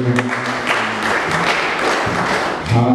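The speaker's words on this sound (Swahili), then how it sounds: "Pigie Mungu wetu makofi mazuri" Church congregation clapping in applause, a dense steady patter of many hands filling the room, with faint voices mixed in.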